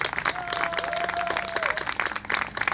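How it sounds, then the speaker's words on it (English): A crowd at a Long Beach Veterans Day festival applauds the grand marshal, a former council member, with steady, dense clapping throughout and a sustained whistle-like tone rising above it midway. "please join me in a big round of applause as he is our grand marshal for this event"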